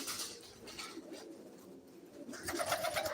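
Hünkari pigeons at a live bird auction give low, repeated cooing that rises and falls close by, set against a murmuring background.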